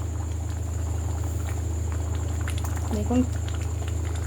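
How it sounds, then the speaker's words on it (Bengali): Ghugni curry simmering in a pot, a continuous bubbling boil with soft popping, close and steady, while someone speaks briefly over it. "আর একটু ফুটলেই নামিয়ে দেবো।"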